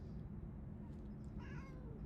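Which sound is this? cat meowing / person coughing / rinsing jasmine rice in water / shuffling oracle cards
cat meowing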